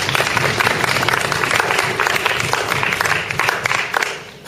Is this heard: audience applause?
yes